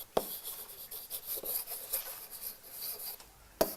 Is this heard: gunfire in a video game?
no